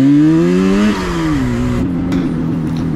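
A Yamaha RD350 two-stroke motorcycle engine revs loudly up close, pitch rising then settling into a steady, rough idle with a rattling two-stroke burble.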